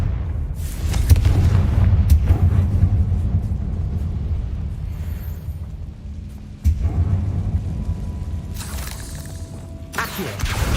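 Heavy booming fire-spell blasts in the Hogwarts Legacy video game, a loud rumbling roar that swells, dips and bursts again with crackling debris over a continuous low-end drone.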